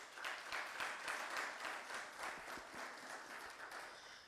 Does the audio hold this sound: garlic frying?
no